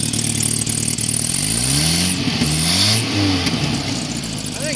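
An Isuzu Trooper engine runs on a newly fitted eBay carburetor, idling a little rough and rising and falling through several revs, close up and steady throughout.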